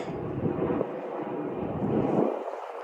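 Airplane passing overhead near an airport, a broad steady roar that swells and fades slightly across the span, heard outdoors from a backyard near a pine forest.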